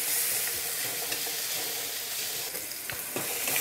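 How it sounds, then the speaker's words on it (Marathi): Chopped green chillies fry on high flame, a loud, dense, continuous sizzle with a few faint stirring scrapes underneath, close up and with no voices. "त्याला आता आपल्याला मोठ्या आचेवर एक जवळपास 1 मिनिट फ्राय करून घ्यायचं आहे."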